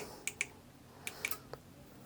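Sharp, faint clicks from a Eurotherm EPACK controller as it enters configuration mode, a few scattered ticks in quiet room tone with no voices.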